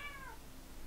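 A house cat meows once in the background, a short faint rising-and-falling cry near the start, followed by quiet room tone.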